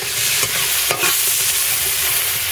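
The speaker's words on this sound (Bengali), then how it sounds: "একটু নেড়ে চেড়ে ভালো করে ভেজে নিতে হবে।" Young jackfruit frying in oil in a pan for a prawn curry, a loud, continuous close sizzle with a few scraping stir strokes.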